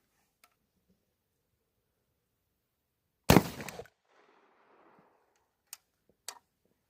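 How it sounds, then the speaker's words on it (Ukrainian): A single sharp, loud shotgun blast from a Safari HG-105 firing anti-drone buckshot at 50 metres stands alone in otherwise quiet outdoor air, followed by a brief rumbling tail and a couple of faint clicks. "Заряджаємо і стріляємо повторно з 50 метрів."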